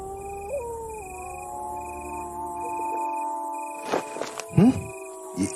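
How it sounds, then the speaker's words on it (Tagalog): A pet dog howls at night in a house, a long sustained wavering howl running several seconds with steady insect-like chirping in the background, followed by a few sharper yelps and whines near the end. "Yung aso umaalulong? Ngayon lang yan nagkaganyan na."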